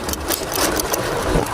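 A motorcycle engine runs steadily while being ridden, giving a constant buzzing mechanical drone mixed with rushing wind noise, with no one talking.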